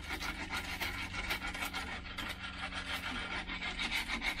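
Thick, varnish-like paint is rubbed off an Edgar Brothers Model 60 air rifle in steady, rapid back-and-forth scrubbing strokes, quiet and close, with no talk.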